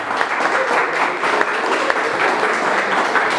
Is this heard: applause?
yes